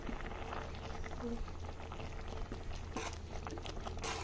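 Payesh, a rice kheer sweetened with sugar, boils in a pot with a dense, steady bubbling that holds at an even level throughout.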